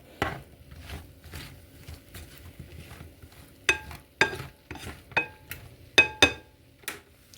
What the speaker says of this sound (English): we'll go ahead and start cooking up these mushrooms